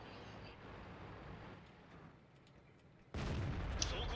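A low rumbling battlefield ambience in World of Tanks breaks into a sudden loud, broadband tank cannon blast near the end, with the boom ringing on as the clip stops.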